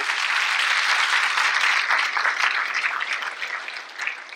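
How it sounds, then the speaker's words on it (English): Audience applause at a school district state-of-the-district event in a performing arts center, a dense steady clapping from a large crowd that slowly tapers off. "Let's give them a round of applause."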